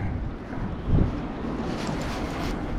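Wind on Lake Norman, North Carolina buffets the microphone during a fishing trip, a steady loud roar with one brief heavier gust, and no voices.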